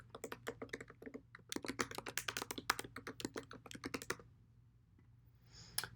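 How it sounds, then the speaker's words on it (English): A password is typed on a computer keyboard in a rapid, close run of crisp key clicks. The typing stops abruptly, leaving near silence broken by one last click. "once we type in the correct combination"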